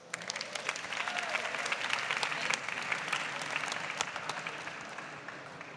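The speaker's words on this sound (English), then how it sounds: "I want a big round of applause from each and every one of you here today" An audience claps at a startup pitch-and-invest grand finale in London, a busy, even spread of hand claps with sharp individual slaps standing out, moderately distant and steady throughout.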